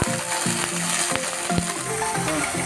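Mint and coriander sizzling in a pan with ginger and garlic while cooking palak paneer, a steady close frying crackle with occasional stirring clinks throughout.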